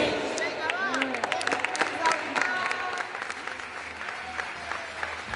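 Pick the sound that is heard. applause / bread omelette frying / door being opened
applause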